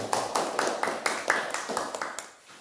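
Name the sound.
class applauding for all student groups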